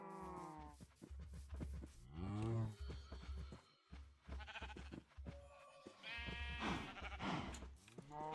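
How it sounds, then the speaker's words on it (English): Blocky cattle in Minecraft low repeatedly during breeding, with several overlapping moos and bleating calls close up filling most of the stretch, with brief quiet gaps between. "Okay, let's breed some cows."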